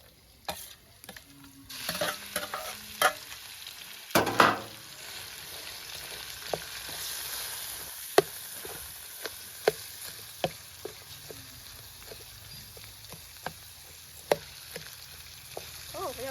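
Pork being stir-fried in a pan for a Thai home-cooked family meal, with a steady sizzle under repeated sharp scrapes and clacks of a spatula at an uneven rhythm, close up and with no talking.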